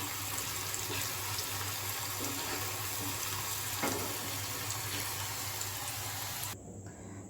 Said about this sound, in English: now I am washing this poha